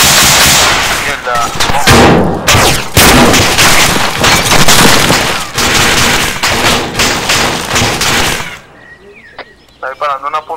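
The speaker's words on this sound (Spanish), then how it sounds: "Está disparando una .50, creo." Heavy, continuous .50 caliber machine-gun fire in the military video game Arma 3 pounds loud and close for most of the stretch, with overlapping bursts and booming impacts before dropping away to quieter sounds.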